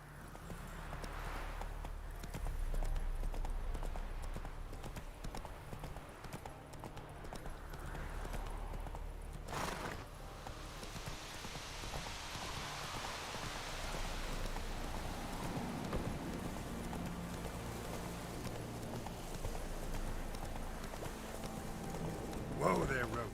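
Hooves of the horse Roach clip-clop at a run through The Witcher 3, a steady drumming pattern under a game soundscape with rain-like noise, while a player talks over much of it.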